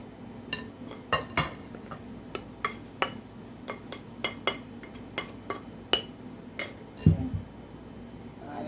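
Chocolate cupcake batter gets whisked in a bowl, the metal whisk striking the sides in a steady run of sharp, close clinks and taps over a soft background.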